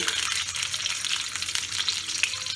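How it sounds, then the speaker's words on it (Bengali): Boiled eggs frying in a spoonful of ghee, giving a steady bright sizzle with faint stirring, close and constant with no voices. "এবার এতে আমি ডিমগুলো ছেড়ে দিলাম"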